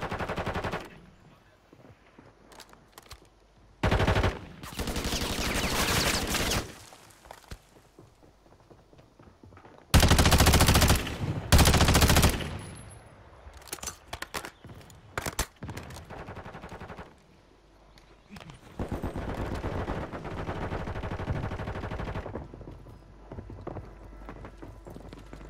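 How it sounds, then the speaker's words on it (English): Gunfire in the video game Fortnite comes in several loud bursts of rapid shots separated by quieter stretches of background game sound, with a few separate volleys close together. "Is that you shooting?"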